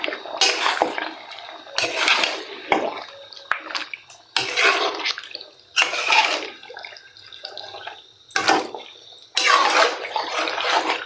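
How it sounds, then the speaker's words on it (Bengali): Beef curry with potatoes being stirred in a pot, heard as bursts of wet scraping and sloshing in irregular strokes separated by short pauses, close and fairly loud with no talking. "এখন মাংসটা আমি নাড়া দিয়ে নেব।"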